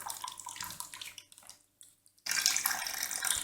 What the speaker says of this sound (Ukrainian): Ось бачите, як тече. Темний сік, розбризкується.